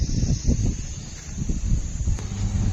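Cold wind blowing steadily through the Murree hills, a continuous low rumbling gusty rush against the microphone that rises and falls throughout.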